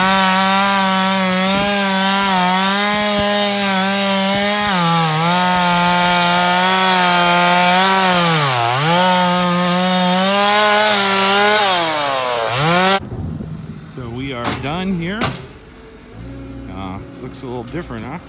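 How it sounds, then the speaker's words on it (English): Chainsaw cutting storm-damaged wood into firewood, a loud steady engine whine with rising and falling pitch as the chain bites, then cutting off abruptly to quieter clatter and handling noises. "The other crew is just a chainsaw crew at this point."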